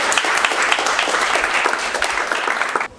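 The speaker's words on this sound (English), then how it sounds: "give Flips a clap" Audience clapping at a football club's end-of-season presentation night, a steady burst of hand claps from a room of people that carries on evenly for about three seconds, then drops off abruptly near the end.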